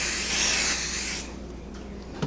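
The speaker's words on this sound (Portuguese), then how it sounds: "Vou colocar o spray temporário. Porque eu vou passar o quilting nessa peça." Temporary spray adhesive hissing from an aerosol can onto fabric being prepared for quilting, a loud close steady spray lasting about a second, then a quiet pause and a small knock.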